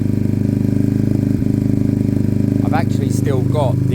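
A Sinnis Cruisestar motorcycle engine idles close by with a steady, throbbing low-pitched putter. Someone talks over it near the end.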